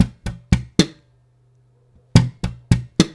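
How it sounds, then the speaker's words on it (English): A slap bass plays a thumb, hammer-on, thumb, pluck pattern: four sharp, close, punchy notes, a pause with a low hum, then the same four notes again, with no talking. "I'm thumping a note, I'm hammering a note, I'm thumping it again, and then I'm plucking a note."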